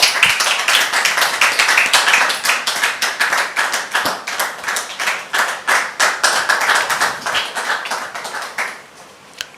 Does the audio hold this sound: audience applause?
yes